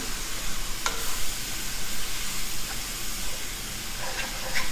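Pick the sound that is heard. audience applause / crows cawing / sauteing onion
sauteing onion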